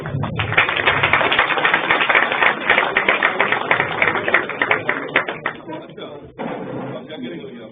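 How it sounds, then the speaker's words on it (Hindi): Thick, sustained clapping from an audience fills a university hall during a Birsa Munda Jayanti and Janjatiya Gaurav Diwas function at CBLU, Bhiwani, then thins out toward the end with a voice faintly underneath. "तालियों की गड़गड़ाहट रुकनी नहीं चाहिए।"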